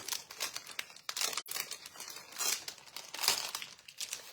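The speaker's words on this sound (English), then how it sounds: "I'm going to put it back in the cellophane bag that it came in." A cellophane bag crinkles and rustles in quick irregular bursts up close as a snowflake decoration on a backer sheet is slid back inside, with brief pauses between handling sounds.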